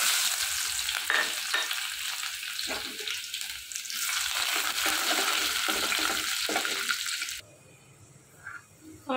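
Onions frying in hot oil with cardamom, cinnamon and bay leaf for chicken curry, a steady close sizzle with stirring scrapes, then an abrupt drop to quiet near the end with a few faint clinks.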